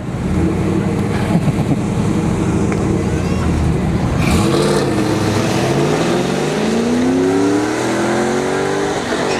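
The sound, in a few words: Pontiac Firebird drag racing run at dragstrip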